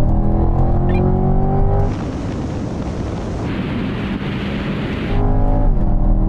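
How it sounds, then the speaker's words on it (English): A Corvette and a Ferrari 458 Speciale accelerating hard from a 50 mph rolling start, loud engines roaring with gear-change shifts in tone, buffeted by heavy wind noise from the speed. "now we're going for a rolling race from 50 miles an hour"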